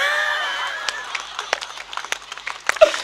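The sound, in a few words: audience applause at a comedy poetry show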